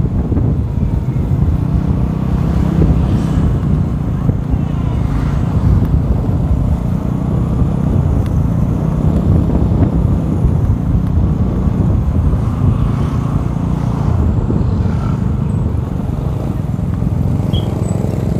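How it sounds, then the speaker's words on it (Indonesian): A Vespa Sprint scooter engine runs through a free-flow exhaust with the DB killer removed, giving a continuous, loud, low rumble with steady throb and heavy wind buffeting on the microphone. "ciri khas knalpot free flow ya"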